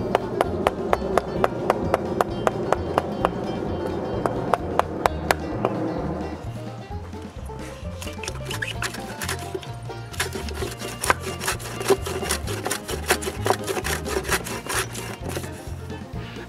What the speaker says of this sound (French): puis je finis le reste avec une varlope